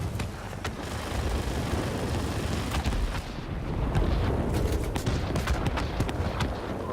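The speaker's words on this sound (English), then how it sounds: "You can really see the high rate of fire of these machine guns." Rapid, continuous machine-gun fire from an XP-72 fighter plane in the World of Warplanes air-combat game, a dense, loud, unbroken stream of shots over engine roar.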